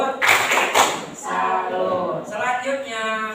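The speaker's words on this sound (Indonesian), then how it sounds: "Tepuk salut untuk Alif." A grade 5 class in a primary science lesson performs a tepuk salut clapping chant, sharp rhythmic claps at first, then voices chanting together under fainter clapping.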